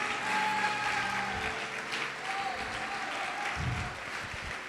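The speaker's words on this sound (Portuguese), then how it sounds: "Você pode aplaudir, adora o Senhor e glorifica a Deus" A church congregation applauds during a sermon, a sustained wash of clapping at moderate distance with faint music or voices underneath.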